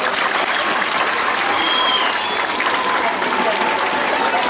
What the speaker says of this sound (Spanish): Un aplauso gigante para Iker.